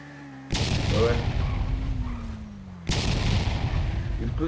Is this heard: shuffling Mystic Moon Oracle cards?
no